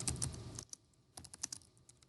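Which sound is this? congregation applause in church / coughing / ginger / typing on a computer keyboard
typing on a computer keyboard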